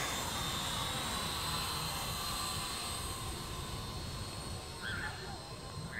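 A child's Star Wars speeder toy drone hovers outdoors, its small rotors giving a steady whirring buzz that holds constant and close throughout, with a faint shift near the end.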